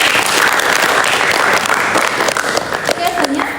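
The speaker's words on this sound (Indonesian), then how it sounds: "tepuk tangan dulu" Students in a classroom guidance session clap together in a steady, loud wash of applause that holds for a few seconds, with voices audible at the tail.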